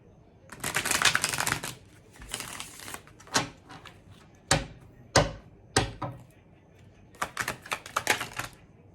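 A Chicoli tarot deck being shuffled by hand, close and crisp, with a long riffling burst followed by several shorter flicking, slapping bursts separated by pauses.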